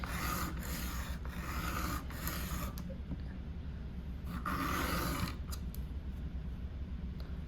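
A knife blade drawn repeatedly across a sharpening stone to raise a burr, giving a steady, close-up rasping scrape in several long strokes with brief pauses between them.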